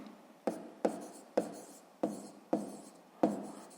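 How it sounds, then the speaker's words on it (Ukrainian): Pen or pencil writing by hand on paper during a sixth-grade math exercise, six short scratchy strokes in a steady rhythm, each starting with a sharp onset and trailing off, close and fairly quiet with no talk. "Записуємо"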